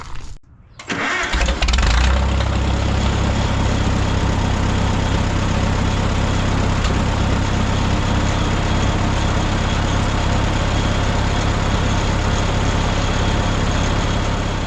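A Farmall M tractor engine with a slow leak cranks and starts, then settles into a loud, steady running drone with a deep low rumble that continues to the end.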